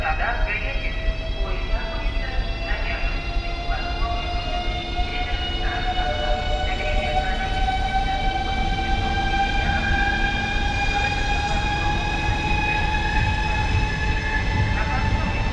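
A Lastochka electric train pulls away from a station platform on the Adler–Anapa route, its motor whine rising in pitch over a loud continuous rumble of wheels on rails, close by.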